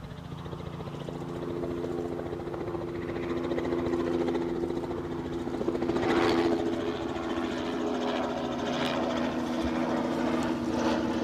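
A Northumbrian helicopter flies near Newcastle International Airport, its steady rotor and engine drone holding loud and continuous, swelling slightly midway as it passes closer.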